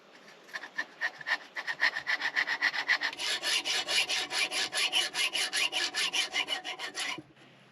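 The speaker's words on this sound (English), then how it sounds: "Maybe the hacksaw is gonna come through." A worn hacksaw blade cuts through wood in a tiny-house carpentry build, giving a steady run of rapid rhythmic rasping strokes. The strokes get louder and quicker partway through, then stop abruptly near the end.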